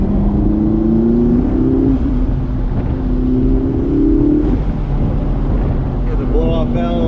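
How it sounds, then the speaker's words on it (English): A car engine revs and climbs in pitch twice, with blow-off valve releases, heard from inside over steady wind and road noise. "Yeah, the blow-off valves sound so good."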